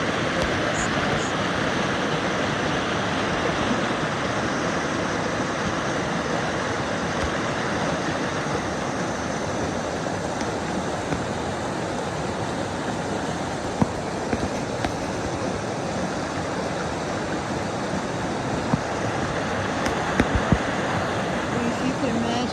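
A woodland creek rushes in a constant broadband wash, close and steady, with a few faint clicks and knocks near the end.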